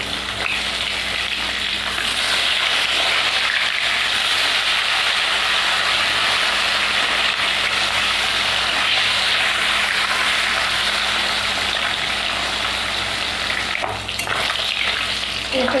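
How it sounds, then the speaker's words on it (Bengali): Silver carp pieces frying in oil in a wok make a continuous loud sizzle, with brief stirring and flipping clatter near the end as the fish are turned, and no one speaking. "মাছগুলো আমি উল্টে দেবো।"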